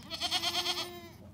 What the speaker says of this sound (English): Just see the goat.